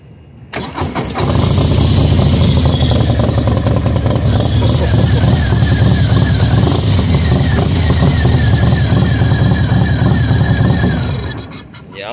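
A 2022 Harley-Davidson Low Rider ST with an aftermarket cam, tune and exhaust idles loudly and steadily up close, its deep lumpy rumble running unbroken for about ten seconds before cutting off, with no talk over it.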